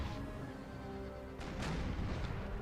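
Artillery firing in the video game Napoleon: Total War, a faint, muffled boom rising out of a low rumbling battle backdrop, one main blast partway through.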